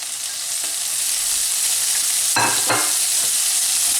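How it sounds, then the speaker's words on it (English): Diced bacon sizzles in a pan with onion and garlic for carbonara, a steady broadband frying hiss throughout with brief louder bursts of stirring midway, close and without talk. "I'm gonna add my bacon, diced bacon."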